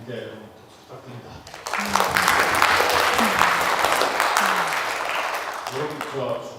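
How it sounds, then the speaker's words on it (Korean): Lecture audience applauding a professor after a talk on novel writing, a speaking voice first, then dense, steady clapping swelling in and holding for several seconds while a voice continues faintly beneath. "교수님께 박수 부탁드립니다"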